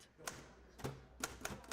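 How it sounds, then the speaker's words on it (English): Typewriter keys struck by hand, several sharp mechanical clacks in an irregular rhythm, one with a faint thunk of the carriage, heard close up in a quiet room. "It's my first time hearing a typewriter in real life."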